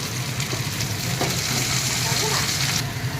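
Potato, cauliflower and tomato fry in a pan with a steady, close sizzle and occasional stirring scrapes, under some faint background talk.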